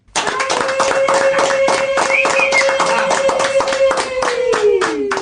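Group clapping in a steady, rhythmic beat at a Rwandan gathering, close and loud, with a voice singing or calling a sustained tone over the claps throughout.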